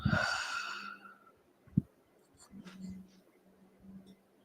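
A slow, breathy exhale during a meditative breathing exercise fades out over about a second, close and soft, followed by faint quiet room noise and small movements.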